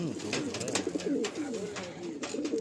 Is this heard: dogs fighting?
no